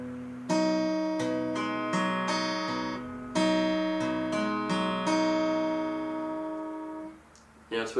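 Acoustic guitar fingerpicking a song, with the thumb on the low strings and a repeating 5-3-4-2 string pattern. Plucked chords ring out clearly and alone in an even, arpeggiated rhythm, each new bass note re-striking the sustained tones.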